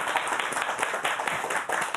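Studio audience at a Belarusian evening TV talk show applauds its guests, a dense, steady wash of many hands clapping at close range with no talk over it.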